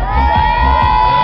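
SC Montredan-Bandemen supporters cheer loudly at a parade, a dense close crowd roar with shouting and high whistle-like tones throughout.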